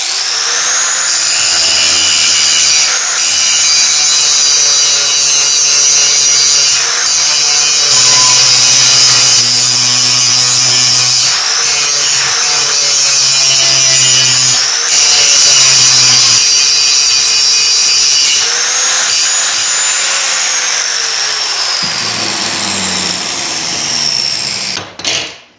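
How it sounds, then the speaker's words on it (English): A traditional grinding wheel shapes a metal engine part for a cyclekart in a workshop, a loud, sustained high whine and rasp that shifts in pitch as pressure varies, then winds down at the end. "So I'm going to go with a more traditional grinding wheel here."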